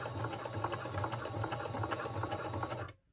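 Sewing machine stitching a tote bag, a fast, steady mechanical whir with rapid rhythmic needle ticking, running continuously up close and stopping abruptly near the end.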